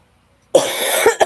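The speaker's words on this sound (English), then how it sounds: "I still have this cough." After a moment of silence, a harsh, close cough bursts out, followed by two shorter rough hacks.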